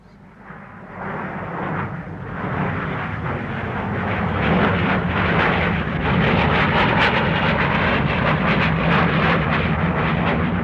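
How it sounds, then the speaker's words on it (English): A plane that drops agents flies overhead, its engine drone rising from a moderate rumble to a loud, steady roar over roughly ten seconds, with no voices. "That could have been the dropping plane with the agents."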